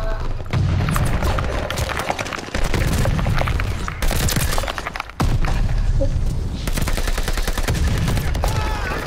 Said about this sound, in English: See, pistol? Oh yeah, this is the same sound for pistols